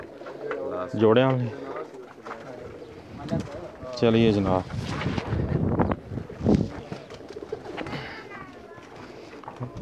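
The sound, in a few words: pigeons cooing on a rooftop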